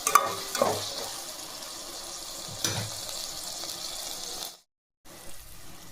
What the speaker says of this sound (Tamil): வெங்காயம் தக்காளி வதங்கிறதுக்கு லேசாக உப்பு போட்டுக்கலாம். தக்காளி வதங்கட்டும்.